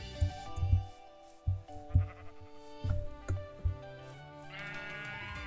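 Sheep in the Minecraft video game bleat several times in quick, wavering calls, loud and close, with a brief game tone near the end.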